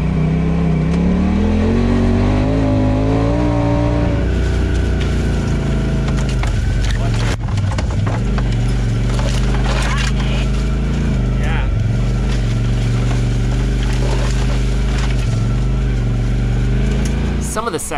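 Side-by-side UTV engines roar loudly and steadily on a tight off-road rally trail in Canada, with the revs rising and falling and rushing wind through the whole stretch.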